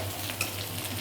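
Slices of taro root (chamadhumpa) fry in oil in a pan, giving a steady, close, broadband sizzle with a faint stir partway through and no voices.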